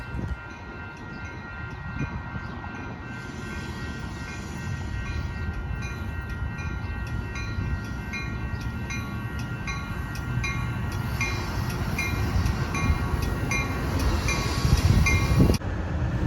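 A Metra Gallery car commuter train on the Union Pacific Northwest line rumbles steadily from the cab, with low rolling rail noise and a faint high tone building gradually over the run.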